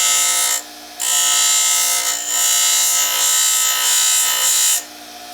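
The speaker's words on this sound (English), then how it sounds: "I just grind a few little rings in it, just for grippiness" Grinder cutting grip rings into a metal bottle cap impressing tool, a loud, steady high-pitched whine that drops out briefly twice and then resumes.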